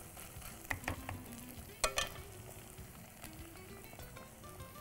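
Ginger garlic paste sautés quietly in a pan. Faint sizzling runs under a few sharp clicks and scrapes of stirring, with short bursts clustered near the start.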